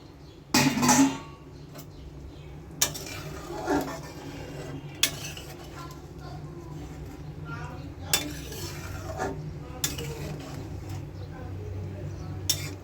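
Salted hilsa is added to a simmering potato and eggplant curry in a pot, with sharp clanks of a spoon against the metal pot and soft stirring, while a person talks.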